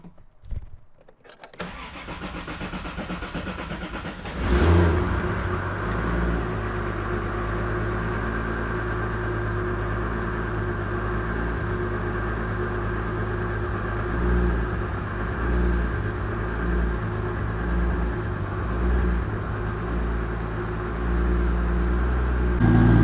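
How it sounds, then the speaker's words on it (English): A car engine cranks and catches after a few seconds of quiet, then settles into a steady, close idle that holds for the rest of the time as it warms up, with no talking. "I'm going to let the car warm up for a second"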